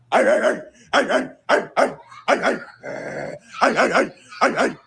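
A person imitates a dog barking with a string of loud, close, gruff woofs and a growl, several voiced barks in uneven bursts with brief pauses between.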